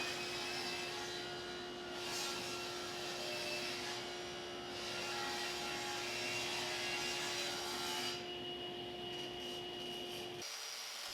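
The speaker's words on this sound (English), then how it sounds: "we're just cutting a nice 45-degree chamfer on the inside edge of our console table parts here" A table saw cuts a 45-degree chamfer along the inside edge of wooden console table parts, with a steady high whine and a broad rushing roar that swells and fades as the wood passes the blade, then stops abruptly.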